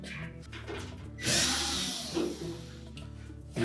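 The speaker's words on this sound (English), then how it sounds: "Now next we'll remove this support piece by taking out two screws on either side" A power screwdriver whirs in short bursts, backing screws out of the support piece on a Samsung dryer, followed by a light clatter of handling, close by with no voices.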